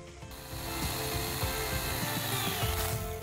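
A Stihl GTA 26 cordless garden saw with a 10 cm bar cuts through a wooden branch, a close, continuous whirring chain rasp with small shifts in pitch as the blade bites, heard without speech.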